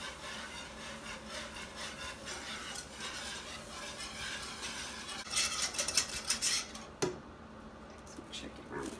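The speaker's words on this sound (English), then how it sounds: "I'm going to stir all of this milk in at one time" Milk is stirred into a hot pan for a cheese soufflé, with a spoon scraping and swishing against the pan in soft repeated strokes, then a louder rattling clatter near the end.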